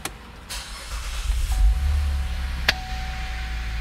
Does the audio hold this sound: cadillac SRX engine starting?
yes